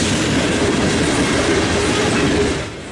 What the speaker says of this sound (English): M315 is another mixed train,